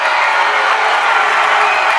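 A gym crowd at a basketball game roars and applauds after a dunk, a dense, loud, sustained wash of cheering and clapping.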